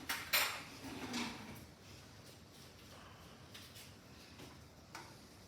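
A spoon fetched from a kitchen drawer while zucchini boats are being stuffed: a few light metallic clinks and a rattle of cutlery up front, followed by faint scattered ticks over quiet room tone.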